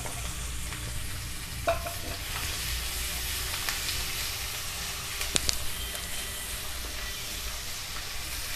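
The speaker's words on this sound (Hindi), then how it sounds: "2 मिनट इसको हम भूनेंगे।" Finely chopped garlic, onion and capsicum fry in a pan for pav bhaji, giving a soft, steady sizzle and hiss with a few light stirring clicks, no voices.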